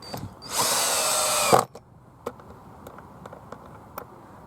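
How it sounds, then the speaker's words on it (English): Power drill driving screws into wooden battens at an allotment, one loud whirring burst of about a second, followed by scattered clicks and taps of handling nearby. "So all I'm doing, coming along, screwing them all down like this."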